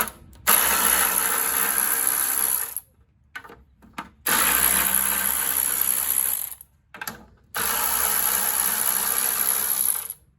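A 1/4 inch socket ratchet clicks rapidly while backing out the top cover bolt on a Toro GTS push mower, in three long, loud bursts of close ratcheting separated by short pauses.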